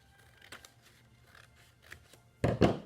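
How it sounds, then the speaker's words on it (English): Scissors cutting slowly through paper along an edge while making a bookmark, a few soft snips early on and then two loud, close crunching cuts near the end. "we're going to cut nice and slowly all the way up the edge"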